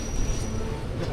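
A train arriving at the station in Angadipuram, a low continuous rumble of wheels and carriages nearby with a faint high whine.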